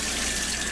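Lukewarm water runs steadily from a tap, a loud continuous rushing hiss with no pauses, close up.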